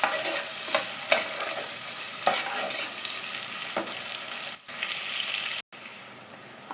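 Onions with a pinch of salt sauté in a pan for chicken dum biryani, a steady hiss of frying broken by repeated scraping strokes of a spoon stirring, close and moderately loud, with no voices.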